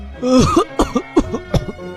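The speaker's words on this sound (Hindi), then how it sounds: "वो जोर जोर से खांसने लगा" A man coughs loudly several times in a row, harsh, throaty bursts close up.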